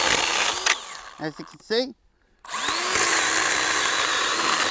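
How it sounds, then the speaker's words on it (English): A Milwaukee Fuel 6 inch battery chainsaw cuts through small pieces of timber for firewood, a steady close buzzing whine that drops out briefly midway, with someone talking over it. "Now basically, I just let the weight of the saw cut this, and it cut it that easily"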